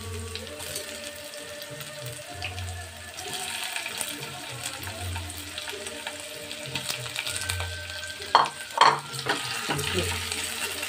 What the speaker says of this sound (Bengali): পেঁয়াজ কুচিগুলো হালকা ভাজবো, পুরো ভাজবো না